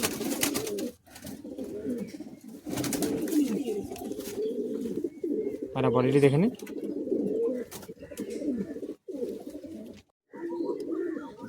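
Soft cooing of high-flying Madrasi pigeons runs through most of the clip, close by and fairly steady, with someone talking over it.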